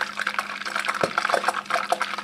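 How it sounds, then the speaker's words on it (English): Ghee sizzles and crackles in a pan on the stove just after water is sprinkled in, a steady close hiss with frequent small pops throughout, no talking. "Just sprinkle some water. See how it is sizzling sound."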